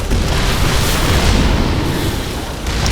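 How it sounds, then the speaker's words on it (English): StarCraft II match with massed siege tanks blasting buildings: a continuous, dense roar of booming explosions and artillery fire, loud and unbroken throughout. "Large number of siege tanks are able to destroy some buildings here."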